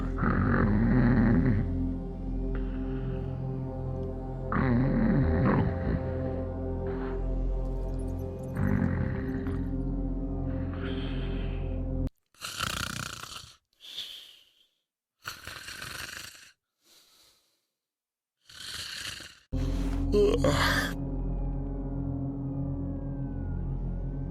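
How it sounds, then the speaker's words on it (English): A game character sleeping in Stalker Lost Alpha snores in a loud, slow series of drawn-out, rumbling breaths, followed by a stretch of choppy, broken game sounds; no talking is heard. "Snore, snore, snore."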